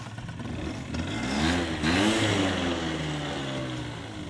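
A long-abandoned 50cc two-stroke moped engine runs steadily after a quick carburetor idle adjustment, its buzzing note rising and falling slightly in pitch, close and fairly loud with no talking.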